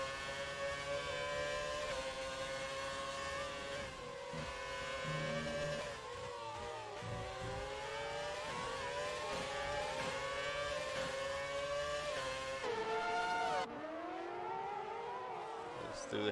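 Several race cars from a classic-car festival race in an Xbox racing game scream around the track, their engines holding high steady tones that rise and fall through gear changes, loud and continuous with no talk.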